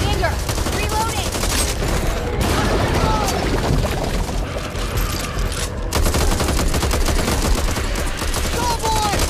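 Dense gunfire in the zombie shooter game Back 4 Blood, with rapid bursts and heavy shots rattling continuously and loudly throughout, along with voices and crashing impacts in the mix.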